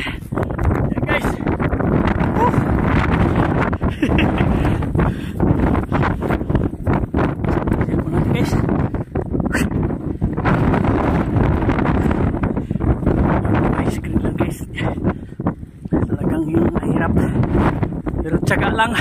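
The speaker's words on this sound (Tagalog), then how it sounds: "Lakas ang hangin." Strong wind in Greenland roars steadily into the microphone, a constant buffeting rush over deep ice, with a person talking over it now and then.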